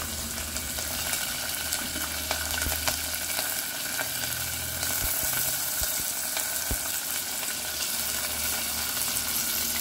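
Vegetables frying in a pan during a home morning cooking routine, a steady broadband sizzle throughout with a few sharp utensil clicks and low hum underneath.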